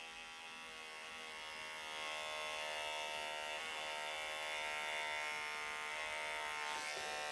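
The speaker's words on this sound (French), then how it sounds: "On dégage bien les poils de chaque côté de l'oreille et on vient raser" Electric clippers shaving the hair inside an animal's ear give a steady, close, high-pitched buzzing hum that runs throughout, slightly louder for a stretch as the blade presses in, with no talking.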